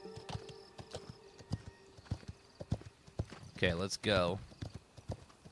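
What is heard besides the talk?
summoned horse hooves in video game The Legend of California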